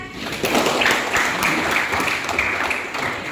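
A classroom audience claps together after a group presentation, a steady wash of applause from start to finish.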